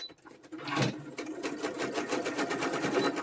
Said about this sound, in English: I'm just going to zigzag all the way around the perimeter to hold all of the fabric on